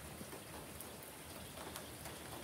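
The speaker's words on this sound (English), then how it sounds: "Rain's picking up." Steady rain patters continuously in New Braunfels during severe thunderstorm weather, a dense, even hiss of drops with a few slightly louder splashes, fairly faint and without talk.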